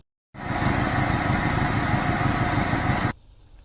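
A Mazda engine with neglected oil and sticky hydraulic lifters idles close by with a fast, even tapping over its hum, starting suddenly and cutting off before the end, leaving faint background.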